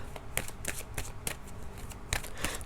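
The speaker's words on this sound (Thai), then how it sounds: "ขอดู ไพ่โรแมนต์แองเจิลให้คุณก่อน 3 ใบนะคะ" Romance Angel oracle cards being shuffled by hand, a run of crisp riffling bursts and soft slaps repeating in a steady rhythm, close and fairly quiet, with no talking.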